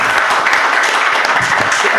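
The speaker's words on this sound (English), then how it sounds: "let's have an applause for them" Participants at the close of a live stream give a round of applause, a brief burst of dense, steady clapping at close range.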